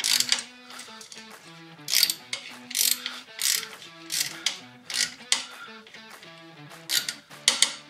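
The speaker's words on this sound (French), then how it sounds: "je vais serrer la chenille jusqu'au temps que j'arrive à ma ligne rouge" Ratchet clicking in quick bursts while tightening the track of a Polaris RMK Khaos Matryx 9R snowmobile, with loud rhythmic pawl clicks repeating across the clip with short pauses between strokes.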